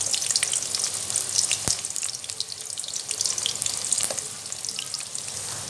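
Four medium onions dropped into a cup of hot oil for mutton karahi, frying in a steady loud crackling sizzle with a couple of sharp pops, no voices.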